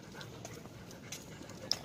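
Dog panting softly on a morning walk, a faint quick rhythmic breathing under light background noise, with no talking.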